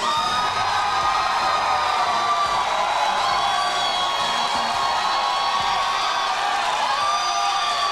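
A large crowd at an MMA fight cheering and shouting continuously, a dense roar of voices that holds steady throughout.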